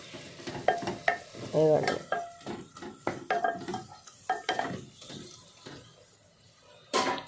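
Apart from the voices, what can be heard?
ivy gourd (tindora) frying and being stirred in a pan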